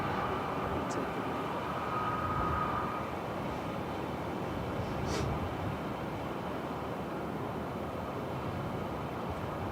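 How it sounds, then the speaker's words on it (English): A Ryanair Boeing 737-800 departing Manchester Airport gives off a steady, broad jet roar from a distance that holds at an even level throughout, with wind in the background. "Departing now is Ryanair 553 to Dublin 9HQBC 737-800."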